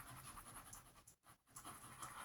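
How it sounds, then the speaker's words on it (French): A dog pants in quick, rhythmic breaths close by, with a brief pause partway through, quiet overall. "Ça, c'est mon chien, Pandore."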